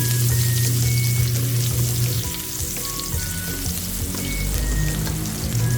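Sliced ginger frying in hot oil as the first step of a fish escabeche, giving a steady, dense sizzle with faint clinks and a light splash of water running nearby, no voices.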